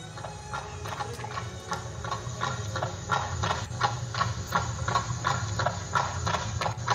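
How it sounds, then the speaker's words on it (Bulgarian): A saddled horse's hooves clip-clop at a steady walking rhythm, regular hollow knocks over a low rumbling background with no talking. "На другия ден брат й оседлал коня и двамата тръгнали към двореца на Далия."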